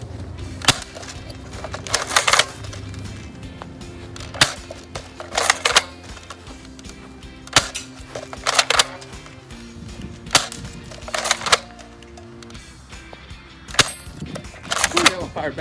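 A Colt airsoft gun, an M4 and a 1911, fires sharp snapping shots, singly and in quick bursts, spread irregularly across the stretch, close by with faint background murmur between volleys.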